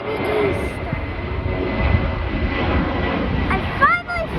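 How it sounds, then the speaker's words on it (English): A China Eastern Airlines jet passes at Hong Kong International Airport, a broad continuous engine roar at moderate distance, with people talking in the background. "I hear another plane. It's China Eastern Airlines."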